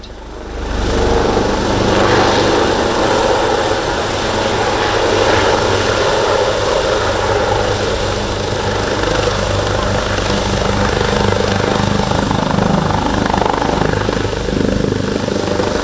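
A PH-139A helicopter flying at the Malta International Airshow, its rotor and turbine roar loud and continuous with a steady high whine, close overhead.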